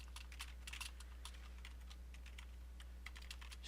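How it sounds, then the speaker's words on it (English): Rapid computer keyboard typing, close and fairly quiet, with clustered bursts of clicks and brief pauses over a low steady hum; no one speaks. "What is with my typing this morning?"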